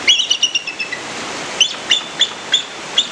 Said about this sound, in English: bald eagles actually sound like this.